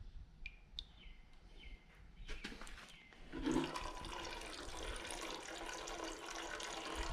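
Coolant from an overheated KTM motorcycle gushes onto the ground in the woods, a sudden steady splashing pour after a few birds chirp, fairly faint and continuing to the end.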